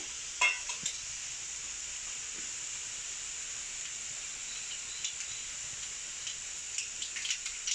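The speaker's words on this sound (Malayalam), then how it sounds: "കടുക് പൊട്ടട്ടെ" Hot oil sizzles steadily with scattered sharp pops and crackles as mustard seeds splutter in a pan.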